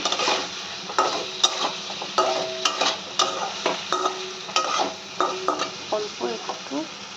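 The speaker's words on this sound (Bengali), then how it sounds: "এবারে দিয়ে দেবো এখানটায় ডিম আলুটা। ডিম আলুটা ভালো করে নাড়াচাড়া করে" Boiled egg and potato being stirred into cooked-down masala in a pan, a quick run of spatula scrapes and knocks over a gentle sizzle, growing busier toward the end.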